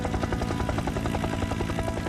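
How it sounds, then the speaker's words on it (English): Helicopter in flight with its doors open, a steady loud rotor thump and turbine roar with rhythmic blade pulses throughout, close and continuous, no voices. "Imagine sitting in a helicopter, doors wide open, the wind howling past your ears."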